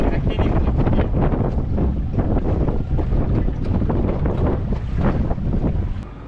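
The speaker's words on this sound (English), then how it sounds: "This wind is ripping out here." Strong wind roars steadily across a mic on a boat out on the water while fishing for fall striped bass in the shallows, loud and gusty throughout with faint voices buried underneath.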